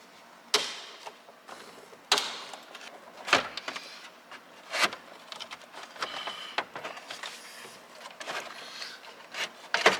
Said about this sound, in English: let's go ahead and take these four screws out